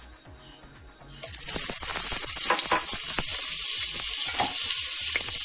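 A quiet moment, then a sudden loud sizzle as onions hit hot oil and butter in a pot, crackling and hissing steadily with occasional pops.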